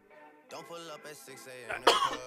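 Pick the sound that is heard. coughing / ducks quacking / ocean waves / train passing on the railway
coughing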